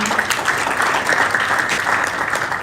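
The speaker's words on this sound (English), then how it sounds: "please clap for them" Audience at a youth leadership forum in Dar es Salaam clapping, a dense, loud burst of applause filling the short moment without speech.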